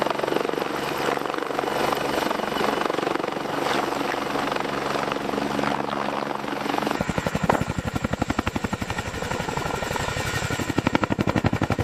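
A Boeing CH-47 Chinook, a 50,000-pound twin-rotor helicopter, flying close and loud, its deep rotor roar turning into strong rapid blade thumping partway through.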